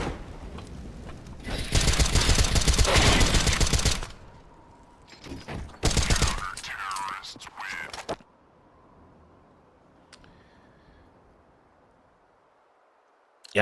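Gunfire in a Counter-Strike style match with Desert Eagle pistols, a loud rapid burst of shots, then shorter bursts and isolated cracks before the action fades to near silence.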